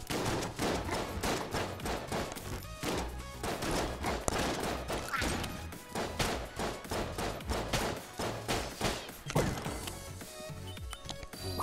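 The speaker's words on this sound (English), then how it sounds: "That's a lot of shotguns." Rapid, overlapping shotgun blasts from enemies in Enter the Gungeon, loud and relentless, with thuds and impacts, before the barrage thins near the end.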